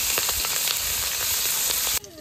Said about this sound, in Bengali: লঙ্কাগুলো একটু ভালো করে ভেজে নিলাম